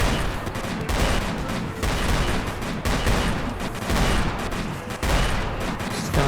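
Gunfire blasts away at skeletons in a video game, loud repeated bursts of heavy, crackling shots in roughly one-second pulses, dense and close with no pause between volleys.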